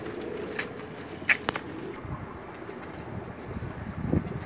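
A female Teddy pigeon from Dubai, kept in Jeddah, coos softly near at hand, with a few quick wing flaps and light handling noise.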